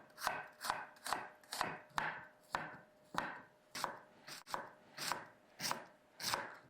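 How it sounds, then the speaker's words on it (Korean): A knife finely slicing onion, red cabbage and cauliflower on a board, about a dozen crisp, evenly spaced cuts at close range with no voices. "양파, 적채, 콜리플라워는 잘게 채 썰어 주세요."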